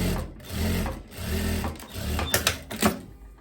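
A sewing machine stitches a seam on a long kaftan in steady bursts of close mechanical whirring, pausing briefly between runs, with sharper clacks near the end.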